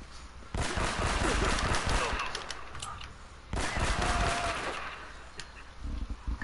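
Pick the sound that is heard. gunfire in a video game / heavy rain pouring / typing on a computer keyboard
gunfire in a video game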